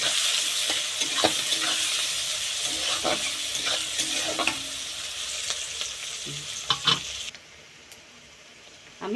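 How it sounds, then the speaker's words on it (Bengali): Chopped onions sizzle in a pan as a utensil stirs them, with a steady frying hiss broken by scraping clicks. The hiss cuts off abruptly near the end, leaving near silence and one last clatter. "আমি পেঁয়াজটা এইভাবে ভেজে নিয়েছি"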